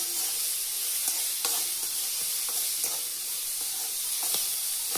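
Guar (cluster beans) frying in a pan give off a steady, close sizzle, broken now and then by brief stirring scrapes, with no voices.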